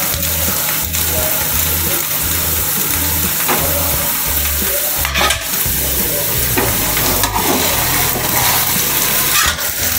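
Fish fries loudly in a pan and is flipped over, with a dense continuous sizzle, a low mechanical hum underneath and a few scraping spatula strokes, close by.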